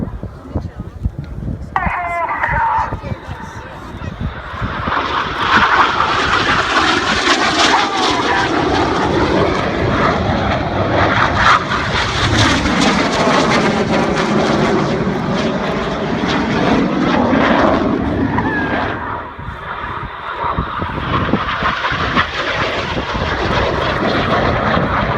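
Red Arrows jets roaring overhead during opposition barrel rolls at an air show, a loud continuous engine whoosh swelling and fading over twenty-five seconds while an announcer talks throughout.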